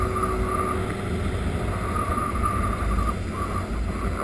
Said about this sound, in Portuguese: Agora só vai ficar só o barulho do vento na orelha assim.